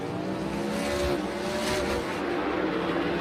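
A NASCAR Next Gen race car runs practice laps at the Busch Clash at the LA Coliseum, its engine a dense, continuous roar at a moderate distance with crowd-like wash around it.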